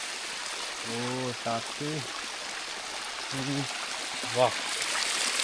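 Steady flowing water from a cold hill stream at an estate in Kollam, a continuous broad wash close by, with a voice speaking briefly over it a few times.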